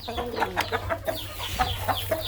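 A young Thai farm hen clucks repeatedly in short, close calls, with other chickens faintly around it and no talk.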